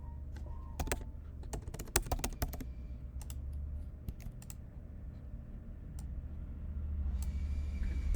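Keyboard keys clatter in quick bursts of typing, crisp and close, then fall quiet over a steady low background hum.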